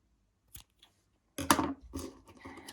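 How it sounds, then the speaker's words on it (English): Scissors cut a yarn tail while a crochet tassel is made, giving a couple of faint snips and then a louder, close, crisp cut with some rustling after it. "now I'm gonna cut a little longer tail here"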